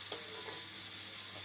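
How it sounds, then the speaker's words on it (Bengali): Onions fry with a little sugar in a pan, giving a soft, steady sizzle with light stirring scrapes. The sound is close and quiet, and no voices are heard. "পেঁয়াজটা লাল লাল করে ভাজা হচ্ছে"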